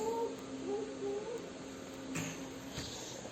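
A cat gives a few brief, soft meows early on, faint against steady background noise.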